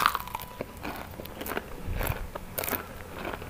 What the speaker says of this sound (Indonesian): crunchy banget, renyah banget suaranya